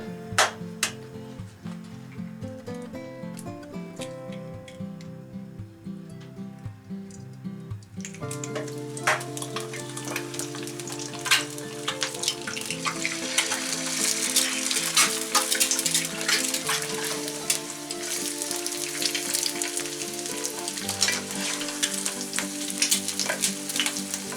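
Eggs fry in a pan, cooked alongside steak and chips. A quieter start gives way to a loud, steady sizzle and crackle, with no one talking.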